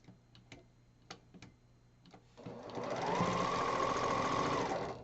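A sewing machine runs in one steady, continuous burst while stitching quilt block pieces together, after a few light ticks and clicks. It is close and loud and stops at the end.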